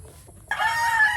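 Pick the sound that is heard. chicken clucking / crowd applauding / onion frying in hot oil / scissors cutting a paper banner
chicken clucking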